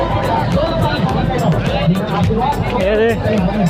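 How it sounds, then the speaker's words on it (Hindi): Dense crowd hubbub from a large audience at a Navratri jagrata stage show, a continuous loud babble of many overlapping voices filling the space throughout. "बहुत ज़्यादा भीड़ है यार, मेला लग गया हादे"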